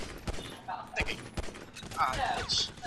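Video game gunfire, a series of sharp, scattered shots in an irregular rhythm, with other game sounds and effects mixed in between them.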